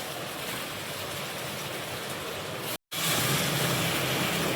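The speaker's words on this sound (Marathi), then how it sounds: "आता आपण इथे जे पाणी गरम केलेलं आहे ते याच्यामध्ये ॲड करणार आहोत" Hot water is poured into a pot of Kolhapuri-style mutton as it cooks. A steady, close rushing hiss fills the clip, cut off by a brief gap near the end before it resumes.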